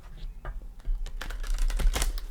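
A Mother Mary oracle card deck is shuffled by hand, close and crisp, giving a series of quick riffling, flapping bursts with no voice over them.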